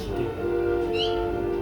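A cat Pokémon's short cry in Pokémon Legends Z-A, a brief tonal meow-like call over a steady layer of game music.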